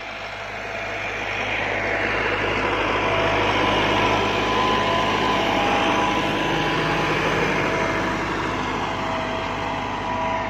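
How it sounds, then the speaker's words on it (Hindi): Tractor dragging a leveling plank across a neighbouring farm field in rural Pakistan, a loud, steady engine drone that holds on continuously with no talk over it. "साथ वाली ज़मीन में ट्रैक्टर सुहागा फिर रहा है साथ वाली ज़मीन में।"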